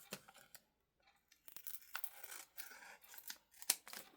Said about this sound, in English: so I can go on and cut it off.